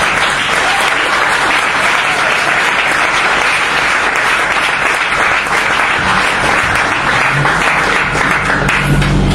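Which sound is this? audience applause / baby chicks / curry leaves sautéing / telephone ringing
audience applause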